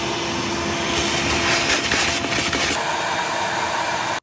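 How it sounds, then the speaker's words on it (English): A vacuum cleaner runs steadily close by while cleaning out part of an Audi during an engine mount job, giving a loud, continuous whooshing roar that shifts in tone partway through as the nozzle moves. "so I'm gonna vacuum that out."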